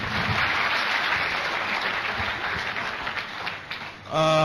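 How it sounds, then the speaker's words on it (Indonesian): A seminar audience gives a steady wash of applause that fades toward the end before a voice cuts in briefly. "tepuk tangan buat si motor itu dong"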